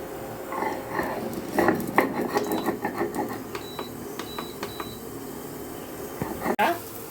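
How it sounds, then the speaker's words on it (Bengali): Mustard seeds are ground on a flat grinding stone, producing rhythmic rough rubbing and scraping strokes close by, with a sharp knock near the end. "নিয়ে নেবো শিলে একটু সর্ষে বন্ধুরা, এটা বেটে নেবো।"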